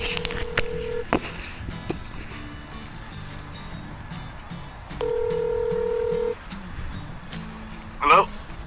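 A phone call is dialed: a short electronic tone, then a steady tone lasting over a second, with a brief chirp near the end, all close and clear over a quiet room.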